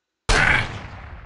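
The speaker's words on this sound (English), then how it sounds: "He got a sniper rifle, I think he is. He will shoot you." A single sniper rifle gunshot in the shooter game Black Ops 2: one loud, sharp crack with a booming tail that fades away over about a second, with no voices.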